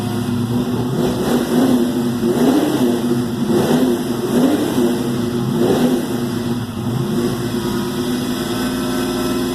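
A 1984 Mustang GT engine revs repeatedly in a low, throaty rumble, rising and falling several times over a steady running idle.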